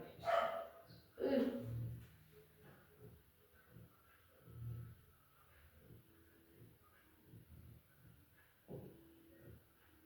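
Dogs bark at a distance in short scattered bursts, faint and intermittent, mixed with people talking nearby.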